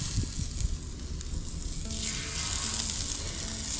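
Scallops sizzle steadily on a hot Blackstone griddle, a continuous close, moderately loud frying hiss that builds slightly as more pieces go down, with no voices.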